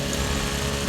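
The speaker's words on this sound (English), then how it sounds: "one of the annoying neighbors using their leaf blower, which is Jim," A neighbour's leaf blower runs steadily with a loud, dense, unbroken motor roar and rush of air, close by, with no talking over it.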